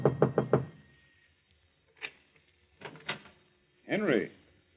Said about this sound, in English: climbs to the top floor, and knocks on the door.